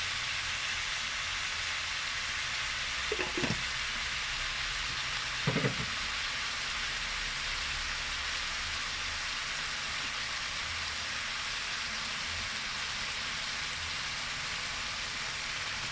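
Tomato sauce poured into a pan of frying bolognese meat, a steady loud sizzle throughout with two brief clunks of pan or utensil partway through, no voices.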